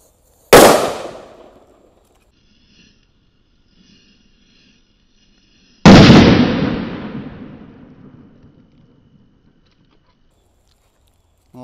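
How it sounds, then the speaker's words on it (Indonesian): Two loud, sharp blasts from Happy Flower firecrackers several seconds apart, each with a long crackling, fading tail and quiet pauses in between. "Selanjutnya ini ada mercon Happy Flower warna merah ya atau disco lap-lap door"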